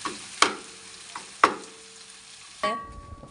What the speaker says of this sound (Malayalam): ഇഞ്ചി പച്ചമുളകും ചതച്ച് വഴറ്റാം, വഴറ്റി കൊടുക്കാം.